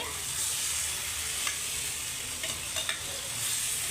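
Leftover cooked rice being stirred and mixed for tomato rice, a steady soft scraping and stirring texture with a few brief louder clinks or scrapes, close and continuous with no talking.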